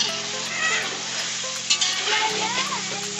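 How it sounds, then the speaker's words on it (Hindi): Paneer sizzles in a hot pan, a loud, steady crackling fry with stirring and scraping on top and a few clinks, close up and with no voices. "अभी पनीर फ्राई करेंगे"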